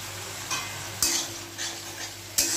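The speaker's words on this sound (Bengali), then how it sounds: "ভালো করে মশলা কষিয়ে নিতে হবে" Spices sautéing in a pan for a green pea dish, with steady frying sizzle under a few distinct scraping stirs of a spoon against the metal, close and fairly quiet.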